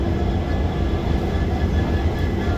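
A train on the Guwahati–Bhairavi line toward Mizoram rumbles steadily from close by, a dense, continuous low roll of wheels and carriage noise with no voices over it.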